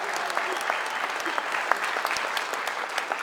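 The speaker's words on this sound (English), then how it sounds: "Give him a big round of applause." Audience applauding for a senator, a continuous dense round of clapping from a sizeable crowd, steady and moderately loud throughout with individual claps standing out.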